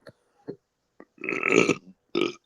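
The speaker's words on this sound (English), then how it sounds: "I don't know why I'm burping a lot there" Several close, loud burps, two brief ones and then a long drawn-out belch followed by another short one, during a podcast-style film and TV recap.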